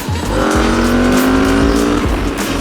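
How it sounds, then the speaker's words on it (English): A 2021 Aprilia RSV4 Factory motorcycle's loud exhaust roars up through the gears, its pitch climbing and dropping with each shift, close and continuous. "you can hear that beautiful, beautiful exhaust"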